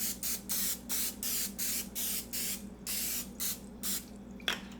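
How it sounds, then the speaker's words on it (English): Cooking spray hisses into a 9x13 casserole dish in about nine short, close bursts separated by brief pauses, with a faint steady hum underneath. "then we're gonna spray a 9x13 casserole dish"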